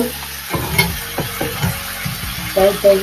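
Vegetables like kohlrabi, carrot and beans are stir-fried in a pan, with loud close sizzling and several quick scraping stirs of the spatula, and a voice briefly heard at the end.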